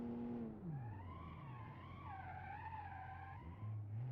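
Car in the BeamNG driving game skidding as its tires lock under hard braking, a steady squealing screech with shifting pitch sliding over the low engine drone for several seconds.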